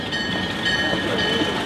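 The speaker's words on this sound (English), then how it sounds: "Train's coming." A train rolls past on the rails with a steady, loud rumble and a thin high metallic whine above it. No one speaks.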